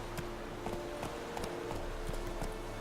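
Horse hooves clip-clop in a steady walking rhythm in The Witcher 3 video game, even and fairly close, with no talking over them.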